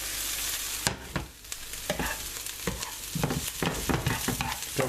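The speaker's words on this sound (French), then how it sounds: "on mijote, on mélange le tout, fromage, patate" A spoon stirs a simmering potato and cheese filling for potato bourek over lowered heat, giving repeated scraping strokes against the pan over a steady soft sizzle, close and alone.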